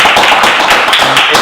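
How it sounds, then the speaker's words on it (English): A short, dense burst of applause from a group, loud and continuous clapping with no talk over it. "Good round of applause."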